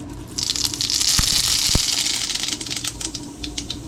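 Mustard seeds splutter in hot oil in a kitchen pan, a dense, close crackle of rapid pops with a couple of sharper snaps, heard on its own.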